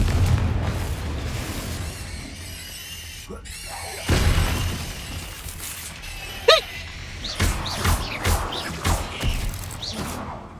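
A Confringo blasting spell goes off in a Harry Potter video game, with crashing, shattering bursts and booming impacts over a rumbling background, with several sharp hits and debris clatter toward the end.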